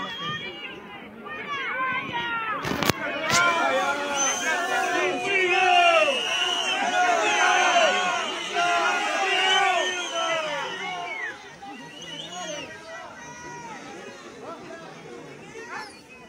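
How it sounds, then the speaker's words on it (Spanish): A large crowd boos and shouts as the president of the Republic steps down at a funeral, a dense, sustained roar of many voices with a brief sharp burst early on. "Y el abucheo, a ver."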